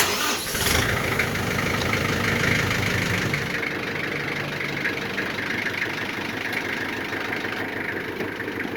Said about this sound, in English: Let's see if this tractor will start